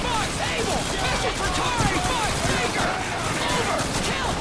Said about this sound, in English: He's shooting the Garand.